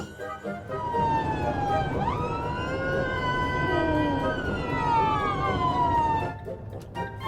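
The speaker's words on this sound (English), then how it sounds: "Fed up of hearing sirens now." Ambulance siren wailing with rising and falling pitch, loud and sustained over the rumble of a moving vehicle interior, with faint voices in the background.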